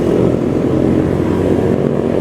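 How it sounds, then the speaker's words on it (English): Two noisy motorbikes pass close by, giving a loud, continuous engine roar that stays steady throughout. "I don't know how noisy that was, 2 noisy motorbikes"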